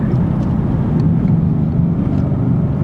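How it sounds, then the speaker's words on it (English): A 2016 Ford Mustang GT Performance Pack taking a corner on a back road, its V8 a steady, loud low rumble heard from inside the cabin with no talking. "The testing corner."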